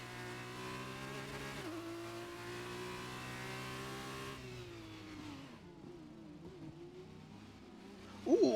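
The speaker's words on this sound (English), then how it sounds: "a lot of cars going side by side through Maggots Beckett's" Formula 2 race cars running side by side through fast corners at Silverstone in a racing game, engines droning loudly with gear-shift dips, then fading into a more distant, mixed engine roar with a brief sharp squeal at the end.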